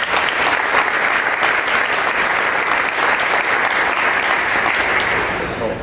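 Sustained audience applause at a mayors' breakfast event, steady dense clapping from a large crowd that holds at full loudness for several seconds and only begins to taper at the very end.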